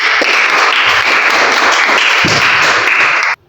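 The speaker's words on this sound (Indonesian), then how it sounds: "tepuk tangan buat Sodik" Classroom applause for a student, a dense burst of many hands clapping at close range, loud and steady for about three seconds before stopping abruptly.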